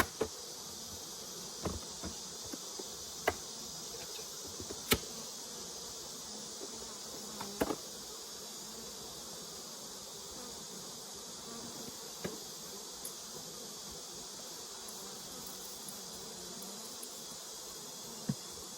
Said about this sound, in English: All kinds of bugs out here.